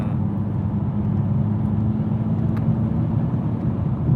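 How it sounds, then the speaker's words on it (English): A car engine hums in a steady, loud low rumble while driving on a freeway in San Diego, with no speech. "You guys are hearing the engine."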